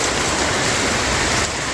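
Dense, heavy rain pours down in a constant loud roar of water, with no voices.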